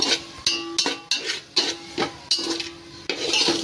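Dry spices being stirred into browned onions in a pan for Arabian kabsa rice, a steady run of scraping, rubbing strokes from the spoon against the pan, repeated roughly every half second, close and clear with no talk.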